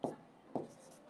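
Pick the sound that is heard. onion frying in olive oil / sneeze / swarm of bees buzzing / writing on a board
writing on a board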